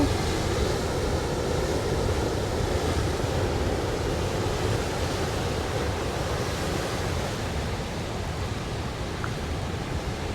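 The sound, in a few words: ocean waves at Red Rocks Reserve, New Zealand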